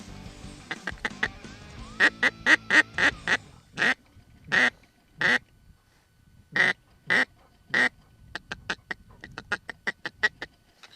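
A hand-blown duck call imitates mallard quacks, used for open-field duck hunting in Oklahoma: fast chattering runs, then spaced single loud quacks, then another quick descending series, close and clear.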